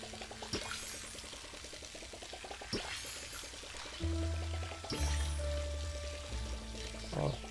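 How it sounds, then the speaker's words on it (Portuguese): Crops being watered in the farming video game Palia, a steady pouring splash from a watering can over light background game music, close and moderately loud. "Vou colocar água aqui, ó."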